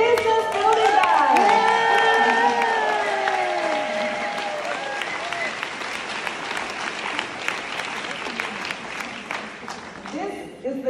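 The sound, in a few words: round of applause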